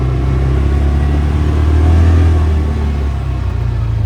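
A 2023 CFMoto UForce 600 UTV engine drones loud and steady on a test drive, a close, continuous mid-pitched roar that swells slightly around its middle and settles back.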